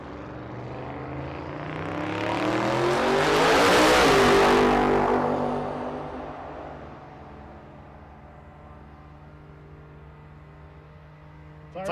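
A Firebird launches down a drag strip beside a turbocharged 4Runner; a loud engine roar swells as the car approaches and passes near, peaking midway and then fading into a lower idle rumble.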